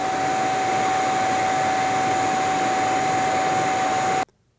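Wet/dry shop vacuum heard from 5 feet away, a loud steady whooshing motor drone with a constant whine, running alone for about four seconds before cutting off abruptly to silence.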